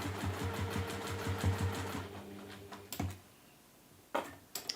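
Sewing machine free-motion stitching a bunny pouch, a rapid even mechanical chatter for about three seconds that stops, followed by a few soft clicks and handling knocks.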